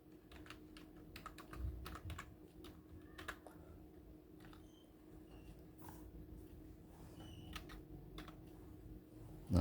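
Typing on a computer keyboard while laying out a coloring book design, soft close key taps in irregular bursts, faint and alone over a quiet room hum.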